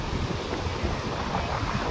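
Sea water surges onto the beach at Murudeshwar with a constant broad roar and rush of surf and wind, close and fairly loud, with no distinct breaks and no talk.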